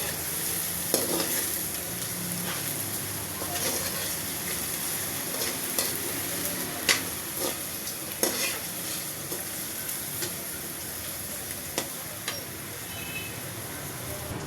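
Onions sizzle and fry in a pan for white chicken rice, with a spoon stirring and scraping at intervals, giving close, steady crackle broken by light clinks over about fifteen seconds.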